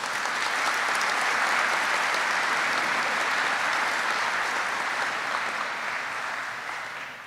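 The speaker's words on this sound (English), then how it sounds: "Please join me in a round of applause for this outstanding team." A large audience applauds at a Warrant Officer Candidate School graduation ceremony, with dense, steady clapping that holds strong, then gradually fades toward the end.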